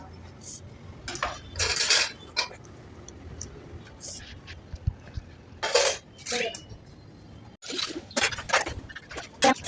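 Metal pots, plates and cutlery clatter and clink in bursts while being handled and set down in a home kitchen, with a person talking intermittently over the noise.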